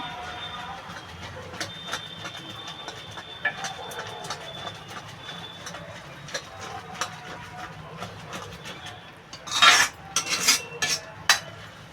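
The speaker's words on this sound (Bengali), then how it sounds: "বন্ধুরা ডালটা আমার গলে গেছে একটু ঘুটে দেবো" A spoon stirs and mashes cooked khesari dal in a metal pot, giving soft scraping and light clinks that end in a louder burst of rapid clatter against the pot.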